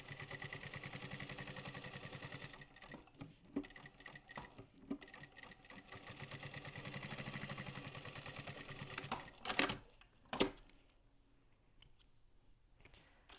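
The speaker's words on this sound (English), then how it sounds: "your machine and go ahead and just baste all the way around now" A sewing machine bastes around the edges of a slip pocket on a pack, a steady close mechanical whir that runs, pauses and restarts, with a couple of sharp clicks near the end.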